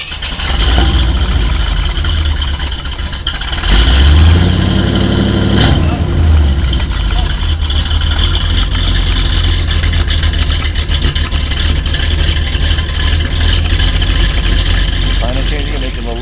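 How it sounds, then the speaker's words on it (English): A 1977 Chevrolet Corvette engine idles through its dual 2-inch exhaust with a steady low rumble, loud and close, with people talking over it. "it's just got the dual exhaust, 2-inch pipe"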